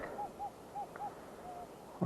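Several short, thin electronic signal beeps from a Nokta Legend metal detector in a scattered sequence, faint against quiet background noise, followed by a brief clunk at the end.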